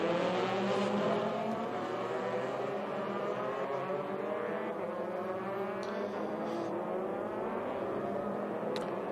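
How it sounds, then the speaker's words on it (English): Formula race cars in a EuroFormula Open race in Belgium rev and accelerate away on their formation lap, engine notes rising and sweeping together in layered whines, moderately distant and continuous. "the cars set off on their green flag formation lap"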